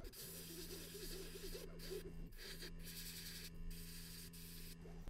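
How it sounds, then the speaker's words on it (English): Black spray paint hissing onto the back of a fishing lure painted with a red gill plate, a steady broad airy rush with brief pauses between bursts over a low steady hum. "I'm going to go ahead and spray the back of this black"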